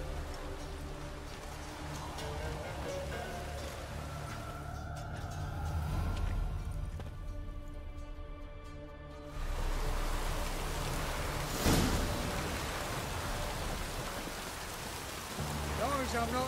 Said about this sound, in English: As long as I'm not at sea, let it rain.